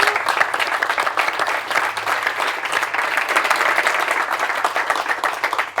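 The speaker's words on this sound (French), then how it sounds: "Je vous demande d'applaudir." Audience applause on a live French tech talk show set, a dense, continuous roll of many hands clapping at steady volume for several seconds with no talk over it.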